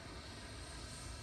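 A radio-controlled model sport jet, an E-flite Viper or Freewing Avanti, on approach to land on a runway, with a steady, faint, even engine whine running through the whole short moment.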